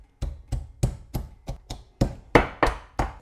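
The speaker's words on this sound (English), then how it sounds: "I'm just going to crush them up in a pestle and mortar" Garlic cloves and a small piece of ginger are pounded in a pestle and mortar, about eleven sharp, evenly spaced thuds in a steady rhythm, close and clear with no talking.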